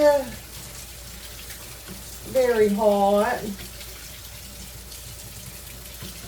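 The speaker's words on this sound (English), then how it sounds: "I am rinsing them with some cold water so that I can actually handle them" Cold tap water runs over freshly boiled beets in a strainer, a steady splashing rush beneath a person speaking nearby.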